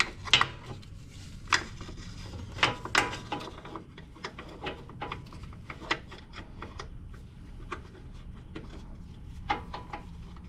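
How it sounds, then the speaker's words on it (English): Socket wrench with a swivel socket loosening bolts on a zero turn mower frame, rapid ratcheting clicks in repeated bursts, close and crisp against a low background rumble. "Highly recommend using a swivel socket."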